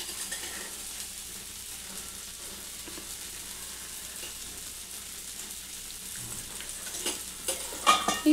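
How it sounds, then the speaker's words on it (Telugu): Masala dosa made with rice flour frying in oil on a pan, giving a steady, fairly quiet sizzle throughout, with a few louder clinks and scrapes near the end. "దీని పైనుండి కొంచెం ఆయిల్ వేసుకోవాలి."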